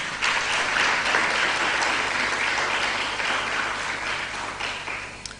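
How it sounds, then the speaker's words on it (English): Steady, dense applause from a school speech day and prize-giving audience honouring the support staff, loud and sustained throughout, with no voices over it. "I invite you equally to applaud our support staff"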